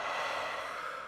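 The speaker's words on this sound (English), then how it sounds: "Breathing in and out" A person takes one slow, steady breath in and out during a guided facial massage, a soft continuous airy rush lasting about a second with no talking.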